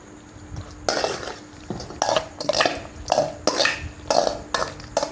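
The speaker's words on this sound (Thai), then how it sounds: "ตอนนี้คุณก็เอามะม่วงใส่ลงไปเลยครับ" Mango pieces tumble into a bowl with a series of clinking, scraping impacts against the dish, loud and close, in repeated bursts with short pauses between.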